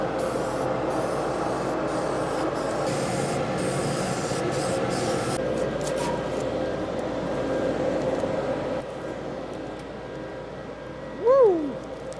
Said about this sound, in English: Everything gets a cavity wax inside of all these areas.